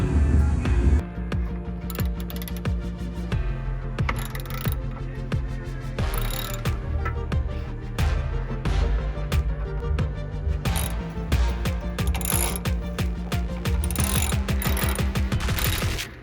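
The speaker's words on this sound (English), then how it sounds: "All you need is a 15mm socket." A ratchet with a 15mm socket working on a 2008 Chevy Silverado 4x4, making fast rapid clicking strokes in repeated runs with brief pauses, up close and loud throughout.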